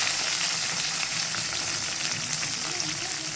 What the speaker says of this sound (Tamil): நம்ம கட் பண்ணி வச்சுருக்க வெங்காயம், கருவேப்பிலை, பச்சை மிளகாய் இது எல்லாத்தையும் போட்டு நல்லா வதக்கிக்கலாம்